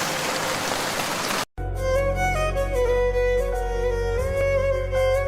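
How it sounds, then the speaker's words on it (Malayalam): Rain pours as a dense, steady hiss for about a second and a half, then cuts off abruptly and gives way to music. "അയ്യോ, മഴ പെയ്തു."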